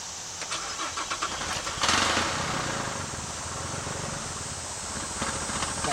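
A Chevy Traverse with a no-power-on-acceleration fault cranks and fires up partway through, then settles into a loud, steady idle heard close by.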